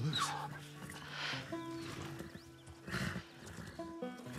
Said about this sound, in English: A zebra?